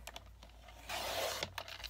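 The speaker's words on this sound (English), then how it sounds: "I picked out this blue paper that I had in my stash and I'm going to cut it down" Blue cardstock from a craft stash being trimmed down to size for a handmade A2 baby boy card, a brief broad scraping cut through the paper after a few light ticks, close and fairly quiet, no talking.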